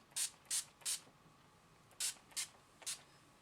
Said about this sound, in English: I'm going to go ahead and spray my face and it'll be finished.